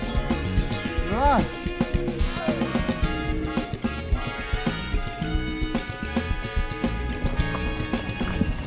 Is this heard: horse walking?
yes